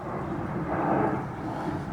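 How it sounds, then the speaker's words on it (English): A small plane cruises high overhead about a mile from an airport, a distant, steady airy drone that swells slightly and then eases while someone walks outdoors in a garden. "there's a little plane cruising through up there"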